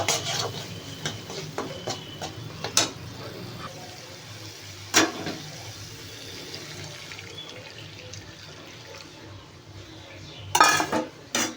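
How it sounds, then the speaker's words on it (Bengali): Warm water poured into a pot of tangra fish curry, with a running splash and hiss, scattered clinks of utensils against the pot, and a louder clatter near the end, close by. "এই গরম জলটা এবার দিয়ে দেব, উষ্ণ গরম জল"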